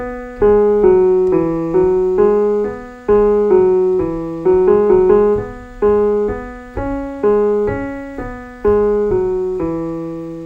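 A short tune of low, resonant notes rings out one by one, each decaying before the next, played alone at a steady pace.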